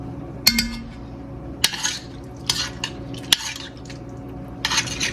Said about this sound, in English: Basically, I'm just deglazing the pan with this.